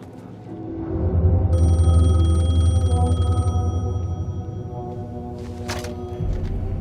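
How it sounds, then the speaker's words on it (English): A payphone rings loud and close in the video game Alan Wake II, a sustained electronic bell tone over a low droning hum, then cutting off into a brief rustle near the end. "The payphone was ringing."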